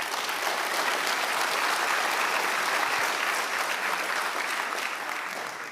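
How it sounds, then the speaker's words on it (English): Audience applause for top ten dealers at an annual vitamins and minerals conference, a steady, dense roar of many hands clapping that holds evenly and fades slightly at the end. "Let's give a big round of applause to our top 10."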